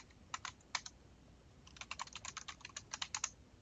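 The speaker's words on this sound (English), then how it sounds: "I'm going to go in here and type in no VLAN" Commands typed on a computer keyboard during a network switch configuration lesson, two short bursts of quick, crisp key clicks separated by a brief pause, close and clear in a quiet room.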